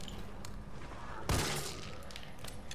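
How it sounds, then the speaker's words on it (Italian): Gunfire from the video game Resident Evil 3, a dense burst of shots near the middle over continuous game ambience, with a few softer crackles before and after. "Ho sprecato un botto di colpi qua"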